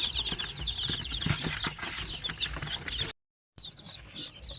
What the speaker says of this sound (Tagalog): So ito yung kahapon ito na mga sisiw na galing sa incubator.